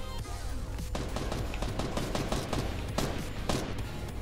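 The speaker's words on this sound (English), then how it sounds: "Where are you shooting?" Gunfire in the Fortnite video game comes as a run of rapid repeated shots over a steady game backdrop, fairly loud and evenly spaced.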